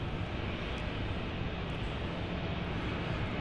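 A jet airliner that has just landed at Brisbane Airport rumbles in a steady, broad, loud roar that fills the whole clip without a break.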